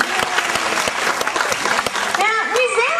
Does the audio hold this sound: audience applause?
yes